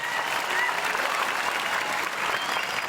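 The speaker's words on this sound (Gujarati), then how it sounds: "ખરેખર તમારા પોતાના માટે એક વાર જોરદાર તાળી પાડો" A seated audience at a motivational speech breaks into steady, dense applause that holds at an even level throughout, loud and close, with no voice over it.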